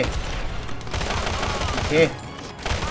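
Gunfire in the mobile video game Modern Combat 3: Fallen Nation, rapid bursts of rattling shots over a busy battle bed, loud and continuous, with faint voices mixed in.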